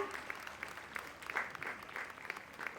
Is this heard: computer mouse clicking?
no